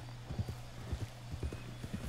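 Hooves of a horse in Red Dead Online clop in a quick, uneven galloping rhythm close by, soft and steady beneath a low hum.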